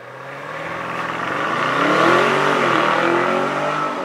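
A BMW M850i launches hard from a stop, its engine note climbing in a loud, rising drone that builds steadily through the gears while close and without voices.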